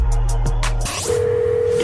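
Telephone tones as a call to a radio show is placed: a steady tone holds under a brief burst of noise, then a clean sustained tone plays alone.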